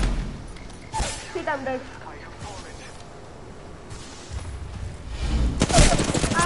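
Rapid bursts of gunfire crack through an Apex Legends firefight, clustered early and again loudly near the end, with a player talking over the shots.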